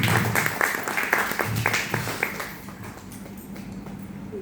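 Audience at a Marathi astrology gathering applauds: dense, steady clapping that is loud at first and then thins out, with a few sharp individual claps standing out.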